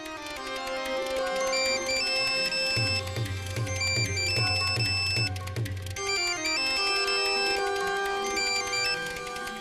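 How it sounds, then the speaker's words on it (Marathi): A mobile phone ringtone plays a bright, repeating electronic melody that fills the whole stretch, loud and close, with a low pulsing tone joining in the middle and no talk over it. "आत्ता फोन वाजेल माझा"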